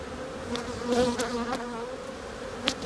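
Honeybees buzz steadily inside a hive opened for a spring inspection, a close wavering drone with a few brief louder swells from passing bees.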